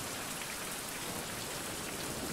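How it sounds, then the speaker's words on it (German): Steady rain falls outdoors at a survival camp, a dense even hiss of drops continuing without a break, fairly soft and alone with no voices. "War schön, dass es regnet, dann füllt es unser Wasserspeicher auf."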